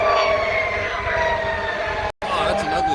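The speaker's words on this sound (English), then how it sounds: "Oh, that's an ugly sounding fire truck." A San Francisco fire truck passes through the avenues with a hoarse, rough-sounding wailing siren that rises and falls over a few seconds, loud and fairly close above background traffic noise.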